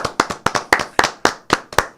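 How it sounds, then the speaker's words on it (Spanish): Crisp, evenly paced hand claps, about nine in two seconds, close and loud with no talk over them, given in a radio studio for a delegation. "Debemos darle un gran aplauso."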